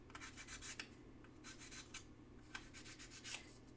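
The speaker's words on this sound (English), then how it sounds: "I have sandpaper strips that are really narrow, so I'm just using it up instead of putting it to waste" Narrow sandpaper strips rub back and forth by hand in short, quiet strokes, a soft rasping scratch repeating in an uneven rhythm over low background hum.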